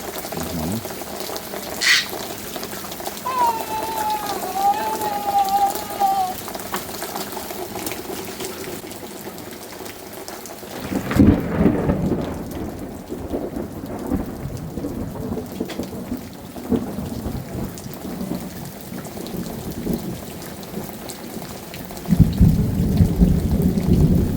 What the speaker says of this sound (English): It's raining and it's very wet.